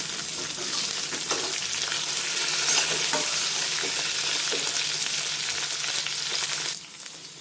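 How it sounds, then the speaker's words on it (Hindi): Drumsticks (sahjan) and potato pieces fry in hot oil in a kadhai, a steady close sizzle with repeated scraping stirs running throughout, fading slightly at the very end. "अब इसमें डाल देते हैं सहजन। इसी में आलू डाल देते हैं। इनको हल्का सा भून लेंगे।"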